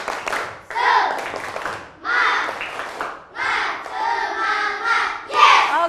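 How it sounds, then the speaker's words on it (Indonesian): A classroom of primary schoolchildren does a rhythmic spirit clap, chanting loudly in unison in repeated short bursts with claps mixed in, close and energetic. "tepuk semangat."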